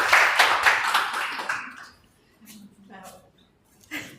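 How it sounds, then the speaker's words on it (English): An audience at a women's summit applauds, a burst of clapping that fades out within about two seconds, followed by quiet talk. "A round of applause for Mercy"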